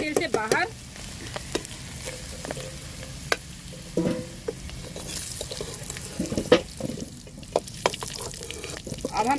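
Potatoes frying in hot oil in a kadai, a soft crackling sizzle with scattered pops and clinks of stirring, fairly quiet and uneven.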